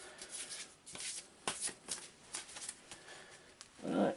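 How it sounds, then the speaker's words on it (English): Arkham Horror game cards are given a quick shuffle: soft, quiet riffling and flicking that comes in short repeated bursts and ends in a denser flutter. "let's give them a quick shuffle anyway, as far as they can be shuffled"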